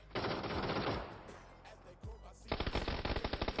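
Automatic weapon fire in the video game PUBG rattles out as loud, rapid bursts, one long volley followed by a shorter rhythmic burst after a brief pause.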